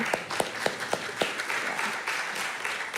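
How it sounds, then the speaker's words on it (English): Audience applause for a new board member at a Sunday church gathering opens with a few sharp, distinct claps, then settles into steady, moderately loud clapping. "so you can clap for that one"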